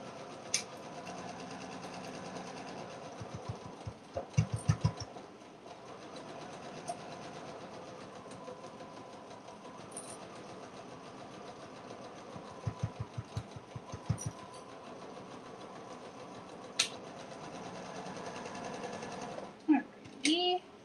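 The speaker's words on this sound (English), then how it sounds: "I'm just gonna sew along this top edge now that my straps are facing up." A sewing machine stitches along the top edge of a canvas tote with straps attached, a steady motor hum broken by several loud rapid bursts of stitching, with a voice talking at times.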